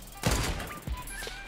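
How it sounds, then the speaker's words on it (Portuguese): Gunshots ring out during a sniper battle in a video game, several sharp bursts and thuds at irregular intervals, some close and loud, with a little background noise between shots. "E os tiros estão passando aqui na minha orelha"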